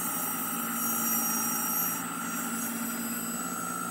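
A Toyota Prius IPM electric motor spins steadily under simple voltage-modulated control, giving a constant whine with layered tonal hums and a faint buzzing edge, sustained and even throughout with no voices.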